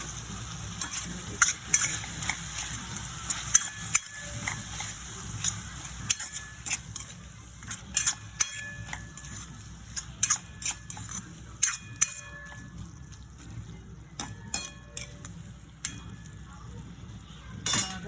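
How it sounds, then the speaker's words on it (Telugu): Chicken with turmeric being stirred in a frying pan, a low sizzle beneath repeated metallic scrapes and clicks of a spoon against the pan, steady and close, with brief quiet talk in places. "కొంచెం పసుపు కూడా వేయాలి. 1/2 స్పూన్ పసుపు చాలు. ఇప్పుడు ఇది బాగా కలపాలి."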